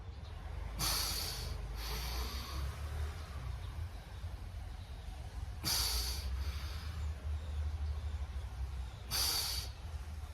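Deep, forceful breaths come from someone doing a yoga breathing exercise with leg movements, four sharp airy bursts at irregular intervals over a low, steady background hum.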